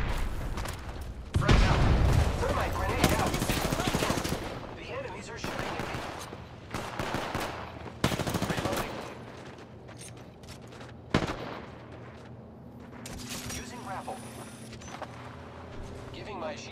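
Automatic and single gunfire in the battle royale game Apex Legends, with sharp bursts and booming shots that come and go over the clip while a player talks throughout.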